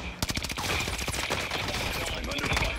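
Rapid automatic gunfire rattles continuously in a Call of Duty Warzone match on Caldera, dense close bursts of shots layered with explosive cracks and no pause for nearly three seconds.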